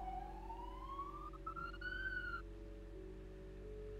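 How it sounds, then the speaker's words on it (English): A police-style emergency siren wails outside, its pitch sweeping upward and then cutting off, heard faintly and at a distance over a steady background hum. "Can you hear that siren?"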